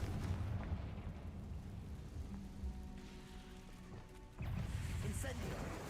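A Confringo explosive spell is cast in the Hogwarts Legacy video game: a rough, rumbling, rain-like wash builds, then a sudden louder blast erupts near the end.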